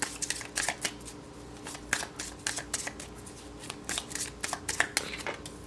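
Tarot cards being shuffled for a pick-a-card reading, close repeated riffling and flicking bursts in an uneven rhythm, fairly quiet overall.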